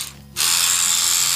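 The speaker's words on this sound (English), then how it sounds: "It's a Rubbermaid battery operated vibrating thing with a brush." A Rubbermaid battery-operated vibrating cleaning brush switches on after a short quiet moment and runs with a steady, loud, high buzzing whir, close by, with no talking.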